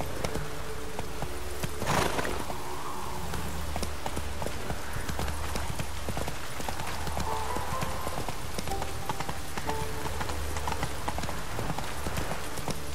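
Geralt's horse Roach trots in The Witcher 3, hooves clip-clopping in a steady, close rhythm over continuous ambient game sound, with a brief louder burst early on.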